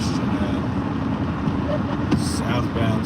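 Steady rumble of road traffic from inside a car on a wet morning commute in heavy southbound congestion, with a constant low road roar and a few brief knocks near the end.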